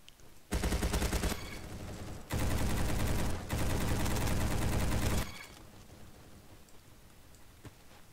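Sustained automatic gunfire from a gun in an FPS video game, several loud rapid bursts of fire with short gaps between them, followed by quieter game ambience.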